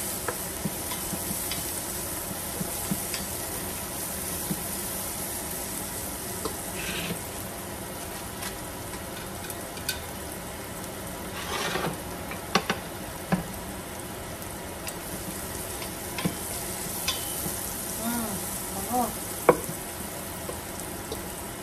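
Black pepper sautéing in a pan for salmon-head sinigang, a steady low sizzle and stir with occasional light clinks of a utensil against the pan, with no talking.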